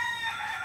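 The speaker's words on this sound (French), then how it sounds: "Et normalement, tu as des poules là." A short burst of chickens clucking and crowing outdoors, a steady bright calling that stays close and fairly loud for under a second, with no voices.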